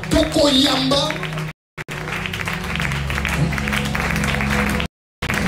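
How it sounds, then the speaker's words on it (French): Applause from a church congregation at a prayer marathon, a steady wash of clapping and crowd noise under a speaker's voice, briefly cut off twice. "Sous vos acclamations, nous allons honorer, nous allons recevoir."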